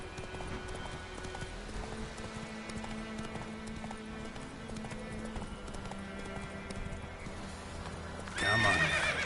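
Roach, a horse in The Witcher 3, moves with steady hoof clip-clops over a low drone, then gives a loud, close whinny near the end.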